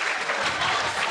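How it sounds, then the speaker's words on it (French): A crowd breaks into brief, dense applause, with many hands clapping at once in a steady, even wash of sound. "J'aimerais ça qu'on applaudisse."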